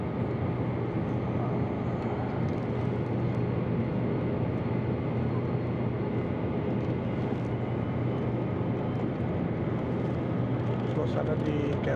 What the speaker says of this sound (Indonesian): Suasana di kabin pesawat